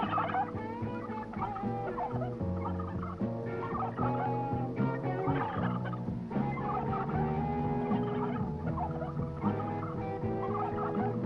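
Turkey gobbling sound effects from the 1972 Z-grade film Blood Freak chatter loudly and continuously, a dense layered chorus of warbling calls with no pauses.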